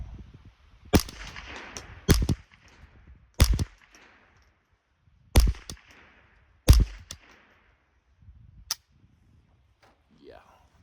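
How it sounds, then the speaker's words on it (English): A Ruger 10/22 rifle fired into a wood line outdoors: six sharp, separate shots spaced about a second apart, each with a short echoing tail, ending with a fainter pop. "This is just me throwing some rounds into the wood line."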